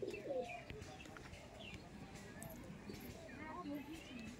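Old Bengali Giribaz pigeons coo softly with a few faint chirps, set against steady background noise and a murmur of voices nearby.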